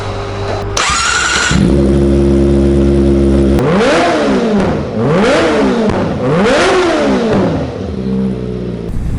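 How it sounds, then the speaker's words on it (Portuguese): A four-cylinder motorcycle that revs to around 19,000 rpm starts up, idles, then is blipped three times in rising and falling high-pitched screams before settling back to a steady idle, loud and close. "Eu deixo-vos aí um bocadinho para vocês verem o gritar dessa moto."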